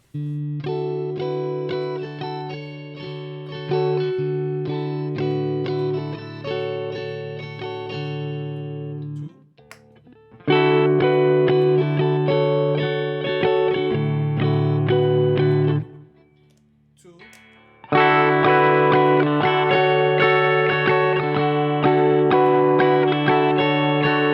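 A Shergold Provocateur SP02SD electric guitar playing sustained chords through effects, ringing and distorted, in three phrases separated by short pauses and small noises.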